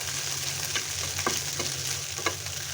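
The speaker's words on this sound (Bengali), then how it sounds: "একটু এভাবে আমি নেড়ে চেড়ে ভেজে নেবো" Dried chepa fish sizzling in oil while being stirred, with a few scraping strokes of a spatula over the constant frying hiss.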